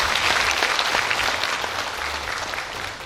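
An audience at a city hall relocation rally in Incheon claps loudly and continuously for about three seconds, a dense close wash of applause with no speech over it.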